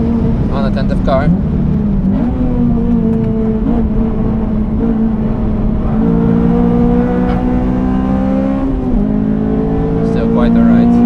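Honda Civic FD2 Type R driven hard on the Nürburgring, its engine screaming loud and close throughout, pitch climbing through upshifts and dipping between gears, with a driver talking over it.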